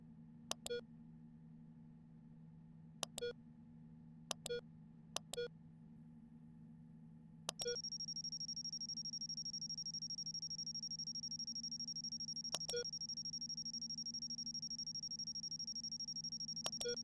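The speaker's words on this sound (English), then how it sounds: "Can you stop beeping? Why are you beeping?" Electronic beeps in the space sim Ostranauts: sparse, sharp chirps spaced irregularly over a low hum, then a continuous high-pitched tone that stays on until the end, with a few more chirps over it.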